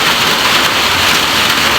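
Steady, dense hiss of heavy rain pouring down, continuous and loud throughout with no voices.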